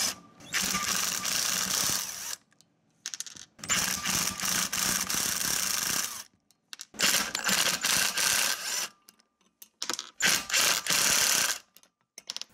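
Ratchet wrench clicking in repeated bursts while backing the bolts off a snowblower auger gear casing, close and loud, with brief pauses between runs of rapid pawl clicks.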